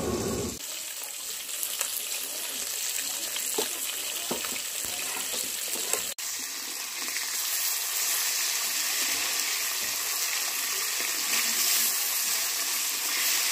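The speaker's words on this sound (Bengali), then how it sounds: "এবার মা বাকি মাছগুলো ভেজে নিচ্ছে, বাকি পোনা মাছগুলো।" Rohu fish pieces frying in hot oil in a home kitchen, a steady dense sizzle that continues throughout with a brief clatter partway and no talking.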